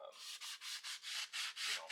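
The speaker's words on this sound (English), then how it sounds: "this is actually a wood sanding block. It's 220 grit" A 220-grit wood sanding block rubbing back and forth on a baler shaft during a bearing change, about eight even scraping strokes in a quick rhythm, close and alone.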